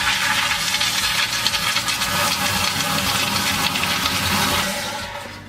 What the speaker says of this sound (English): that is why you don't flush the toilet when other people are sleeping